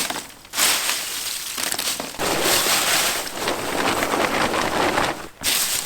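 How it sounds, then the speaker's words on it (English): Chickpea pods being broken open by hand to free the peas, a dense run of dry crackling and crushing with a few brief pauses, close and fairly loud. "Break the peas out of the pod."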